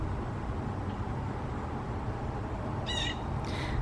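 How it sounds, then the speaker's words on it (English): A quiet bird gives a short burst of high chirping calls outdoors near the end, followed by a fainter second call, all over a steady, noisy background. "This is one of the quiet birds."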